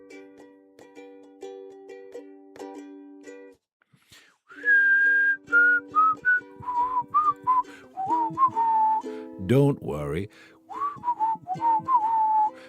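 Someone whistles a wandering melody with sliding notes over a soft keyboard backing, with a brief spoken phrase partway through.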